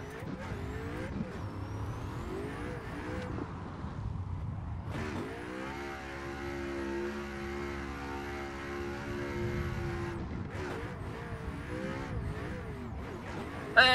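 A Ford Mustang drift car on Nitto tires at Long Beach in a racing sim, engine rising and falling through revs, then a long held high-rpm drone before more shifting and throttle changes.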